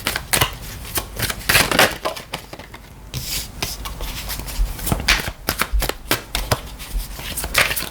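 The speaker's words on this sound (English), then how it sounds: "So let's just draw some tarot cards here" Tarot cards shuffled by hand in a steady run of crisp riffling bursts and soft slaps, close and fairly loud, with no talking.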